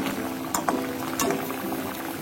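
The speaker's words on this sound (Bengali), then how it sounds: "আর 2-3 মিনিট রান্না করলে আমার রূপচাঁদা মাছ রান্না হয়ে যাবে।" Rupchanda fish simmering in a pan with coriander leaves and green chillies, a close bubbling and sizzling with a few sharp pops, no talk.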